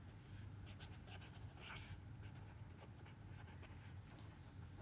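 Pen writing out math working on paper, a close scratching of repeated short strokes across the clip over a low background hum.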